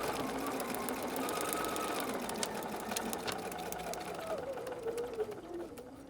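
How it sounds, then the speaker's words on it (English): A sewing machine stitches foundation paper piecing in a quiet, close, continuous whir that lasts about six seconds and fades slightly toward the end, with faint talk in the background. "we'll start stitching directly on the line and stop immediately after that line."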